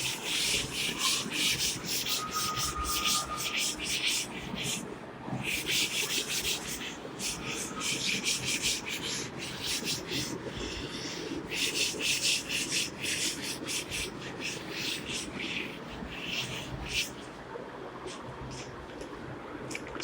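A board is wiped clean after a real analysis lecture, a long run of dry, scratchy rubbing strokes in quick repeated bursts, close and continuous for about twenty seconds with no talking.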